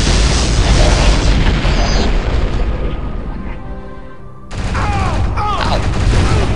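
Biobot enemies blow apart in Turok 2: Seeds of Evil with heavy booming blasts amid gunfire, loud and continuous, then easing briefly before more explosions, while a player talks.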